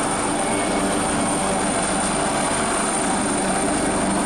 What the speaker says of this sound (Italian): vedete volontariamente l'elicottero sta perdendo quota